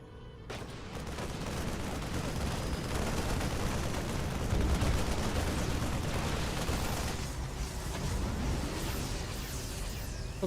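A siege tank keeps firing in a StarCraft 2 battle, mixed with dense, continuous gunfire and explosion noise. The volume stays fairly loud and steady for the whole stretch.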